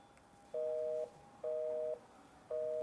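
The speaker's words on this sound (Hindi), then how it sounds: "तुम्हारा फोन तो अभी भी बिजी आ रहा है।" Telephone busy signal from a phone call in a home comedy scene, three even repeating tone pulses about a second apart, steady and moderately loud with no talking.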